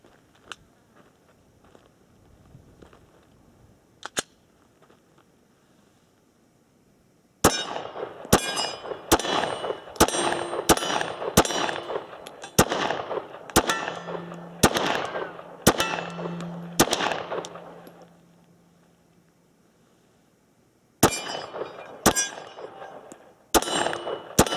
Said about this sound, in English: The two gongs are about 11 yards.